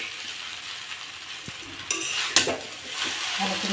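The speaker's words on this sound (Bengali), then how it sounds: "আমি এবার ডিমটা দিয়ে দেবো।" An egg goes into frying chow mein and is stirred through: soft sizzling under brisk scraping of a utensil against the pan, with a sharper clatter and a louder burst of sizzle partway through.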